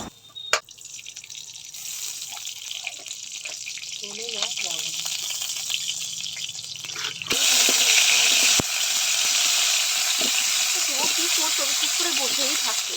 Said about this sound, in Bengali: এঁচোড় আর আলুটা ভালোভাবে ভেজে নেব অল্প তেল দিয়ে